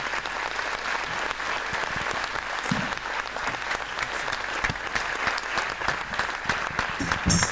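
Audience applause for singing children at a mayor's New Year ceremony in France, continuous clapping with individual claps standing out, steady throughout.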